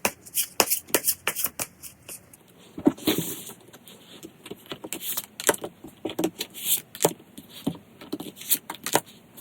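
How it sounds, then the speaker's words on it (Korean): Tarot cards are shuffled by hand for a reading in a run of quick, crisp riffling and flicking bursts, close and fairly quiet, with no one talking. "이런 식으로 좀 세부적인 카드 한번 뽑아보도록 할게요."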